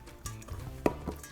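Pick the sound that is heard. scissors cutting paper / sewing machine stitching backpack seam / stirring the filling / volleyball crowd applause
stirring the filling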